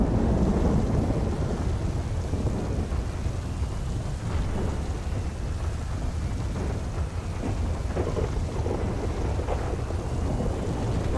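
A thunderstorm in a video game roleplay rumbles with heavy rain, a dense continuous roar of downpour and low thunder that stays steady and loud throughout, with no talking.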